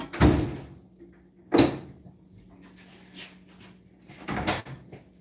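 Kitchen door being handled and shut, with three sharp thuds and a softer knock between them spread over several seconds, fairly close, no talking.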